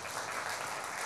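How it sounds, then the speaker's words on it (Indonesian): An audience at a talk event claps together in steady, dense applause, a continuous wash of many hands at moderate volume with no voices over it. "Tepuk tangan semuanya."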